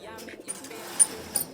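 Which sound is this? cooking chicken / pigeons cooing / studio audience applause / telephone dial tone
pigeons cooing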